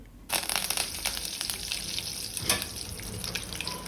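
Mustard seeds spluttering in hot oil in a kadai on a gas stove while making dahi kadhi. A dense, steady crackle and hiss starts abruptly, close and loud, with no talking.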